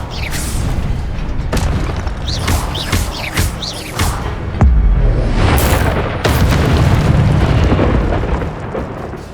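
Incendio fire spell in Hogwarts Legacy: a rapid series of loud whooshing bursts and booms with crackling blasts, close and punchy, ending in sustained rumbling impacts.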